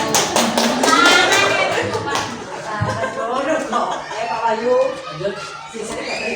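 Brief burst of hand clapping at a school teachers' gathering, a quick run of claps at the start that gives way to talking and light laughter.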